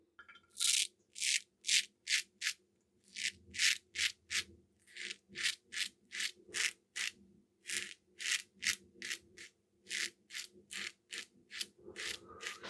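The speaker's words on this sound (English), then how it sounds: "When you have a comfortable razor, it's just so satisfying to keep buffing." A double-edge safety razor, the Urkunet Assassin, scrapes across stubble in rapid, regular strokes, a close, crisp rasping repeated dozens of times with short pauses between bursts and no voices.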